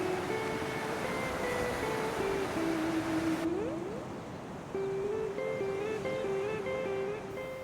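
Steady wash of Mediterranean sea waves at the old Roman port of Caesarea, a continuous moderate surf rush with faint tonal sounds layered over it throughout.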